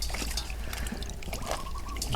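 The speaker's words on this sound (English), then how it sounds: "Just drain the water out." Water trickles and splashes steadily as it drains from washed vegetables through a bamboo drainer in a home kitchen in Cambodia, a continuous close dribbling with small spatters and no talk.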